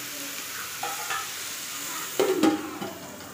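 Potato, cauliflower and other vegetables frying in a hot spiced tempering, a soft continuous sizzle with a few scraping stirs near the end, close and alone.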